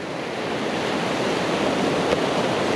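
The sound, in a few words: sea waves on the shore while fishing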